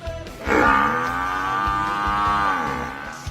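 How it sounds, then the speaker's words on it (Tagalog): A carabao, the Philippine water buffalo, gives a single long, loud, steady moo lasting a few seconds. It sounds close, with no voices over it. "Mataas na uri ng kalabaw sa bagong Pilipinas."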